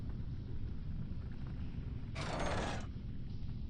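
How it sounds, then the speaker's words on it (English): A stone-and-gear mechanism opens a door in the puzzle game Rhem 2: The Cave, a brief grinding, creaking rumble rising out of a low ambient drone and fading after about a second. "I'm gonna guess it opens the door over there."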